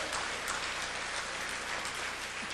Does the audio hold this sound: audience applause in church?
yes